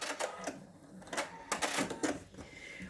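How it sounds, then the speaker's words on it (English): A sewing machine back-stitches fabric on a lap pad, giving short, uneven bursts of mechanical whirring and clatter close by, stopping and starting. "Lay it down flat and stitch again. Back stitch."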